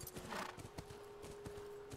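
Horse hooves clip-clop in a quick, steady rhythm in The Last of Us, close and fairly quiet, with a faint electronic hum beneath.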